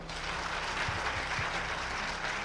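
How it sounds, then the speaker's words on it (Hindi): Steady, dense clapping from a crowd fills the whole stretch, even in loudness, with no voices standing out. "तो ताली बजा सकते हैं"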